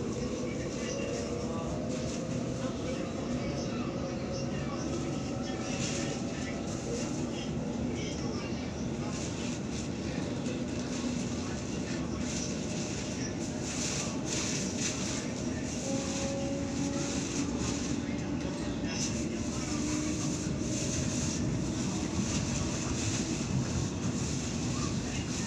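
A Waratah series electric train runs along the T1 line in Sydney, its steady interior rumble and rail noise continuous throughout, with a faint whine rising and falling, and an onboard announcement voice heard over it.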